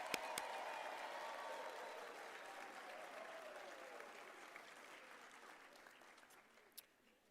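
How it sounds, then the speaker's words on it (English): Faint, distant applause from a graduation ceremony audience congratulating graduates, a sustained wash of clapping that slowly tapers off, with a couple of sharper claps near the end. "Shall we give a big round of applause to our graduates in congratulating them?"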